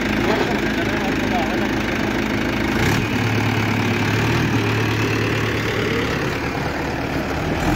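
Mahindra 575 XP Plus tractor engine idling steadily, a continuous low rumble that fills the whole stretch, close and fairly loud, with a slight shift in its tone near the middle.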